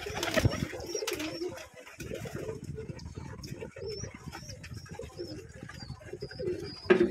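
Pigeons coo steadily inside a pigeon house on a pigeon farm, soft low throaty calls overlapping nearby, with a few higher chirps and a sharp knock near the end, no voices.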